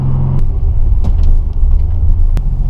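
Nissan 300ZX twin turbo with a new 98+ spec transmission idling in neutral, a steady close engine rumble with a few faint clicks over it.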